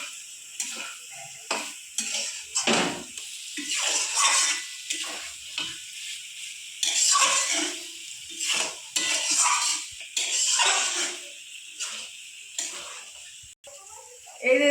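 Fried soybeans stirred with spices in a pan for a soybean and egg curry, with intermittent scraping and sizzling bursts and clicks of a spoon against the pan, alternating with a voice talking between strokes.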